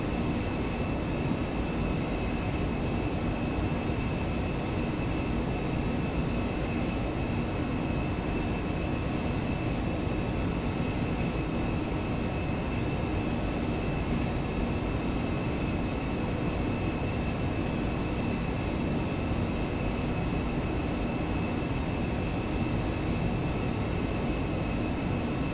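Embraer ERJ135 jet engines at idle thrust in the X-Plane 12 flight simulator, a steady broadband cabin roar with a constant high whine running unchanged throughout, no talk.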